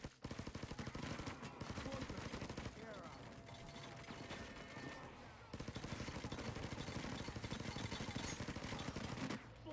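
Rapid automatic gunfire rattles almost nonstop in Payday 2, dense streams of shots with a brief lull midway, while voices talk over the shooting.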